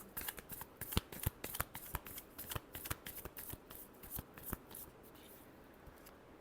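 Tarot cards are shuffled by hand close up in a quiet room, a quick series of crisp riffling snaps and slides that tapers off toward the end, with no voice.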